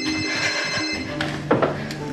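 A mobile phone rings with a bright electronic ringtone, sustained tonal chiming over a steady background, fairly loud and close, with a couple of soft knocks near the end.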